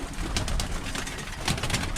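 Birmingham Roller pigeons coo in a loft, soft repeated calls rising and falling close by over a steady rustling background, with no talking.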